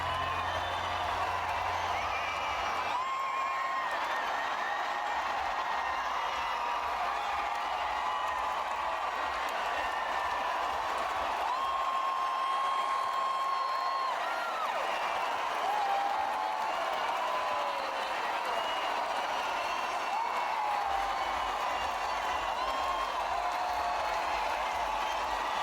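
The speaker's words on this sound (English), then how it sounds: "Listen to the crowd. And the crowd goes wild." A concert crowd at a show applauds and cheers in a continuous, dense roar, with whistles and whoops rising above the clapping. It holds steady for the whole stretch and no one speaks.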